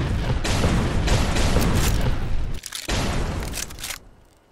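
A grenade blast in the Volcanoids video game sets off a loud, rumbling roar that carries on for several seconds, briefly dips, then surges again before fading out.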